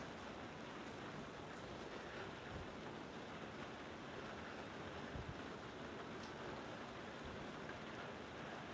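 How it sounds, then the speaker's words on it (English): Rain falling steadily outside a shop during a storm, heard from inside through a side door as a constant broadband hiss, faint and unbroken with occasional small knocks, no talk. "because it's raining pretty good"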